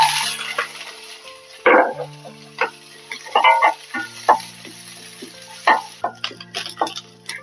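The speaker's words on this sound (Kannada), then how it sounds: "ಈಗ ಈರುಳ್ಳಿ ಹಾಕಂತ ಇದ್ದೀನಿ." Sliced onions dropped into hot oil in a pan, giving bursts of sizzling and stirring scrapes over a steady background tone.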